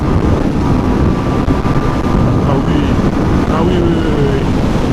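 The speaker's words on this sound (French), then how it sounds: "je commence à tomber amoureux de ce petit moteur là" Small single-cylinder Yamaha MT 125 (2020) motorcycle engine droning loud and steady while riding, buried in heavy wind rush, with a faint shifting whine as revs change.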